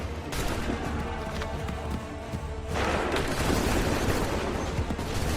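Musket volleys crack out in a battle in Assassin's Creed 3, a rolling fusillade of overlapping shots that grows heavier and louder halfway through, with distant booms beneath and no speech.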